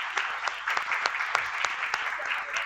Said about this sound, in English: kindly give a big applause